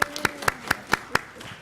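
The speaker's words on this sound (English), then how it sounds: "Everybody give Ms. Zaria a round of applause." Scattered clapping at an East Baton Rouge Metropolitan Council meeting, a handful of distinct, fairly loud claps in a slow uneven rhythm over a quiet room hum, with no voices.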